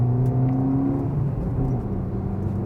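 A 2026 Maruti Ignis car accelerates at speed, its engine and road noise forming a steady, loud mid-low drone with a gradual rise in pitch, heard from inside the cabin.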